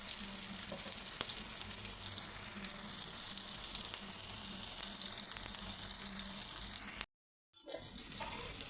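Mutton keema balls fry in hot oil in a home kitchen, giving a steady, dense sizzle that runs for several seconds. It breaks off briefly near the end and then starts again. No one speaks over it.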